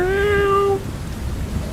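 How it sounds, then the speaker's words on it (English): A black cat gives one clear, drawn-out meow up close, falling slightly in pitch before cutting off, followed by a quiet, hissy background. "saw a black cat wedged in between a piece of wood rammed up against the lamppost"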